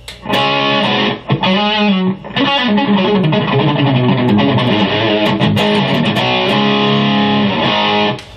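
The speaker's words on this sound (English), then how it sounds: "overdrive pedal on, and that sounds like this." Electric guitar through an overdrive pedal on a GCX/Ground Control rig, playing a loud, continuous classic rock riff with dense distorted chords and brief dips between phrases, alone without talk.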